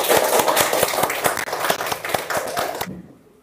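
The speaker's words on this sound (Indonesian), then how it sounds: "Tepuk tangan untuk kelompok" A classroom of students claps for a presentation group, a brisk, close burst of hand claps with distinct rhythmic slaps that stops abruptly near the end.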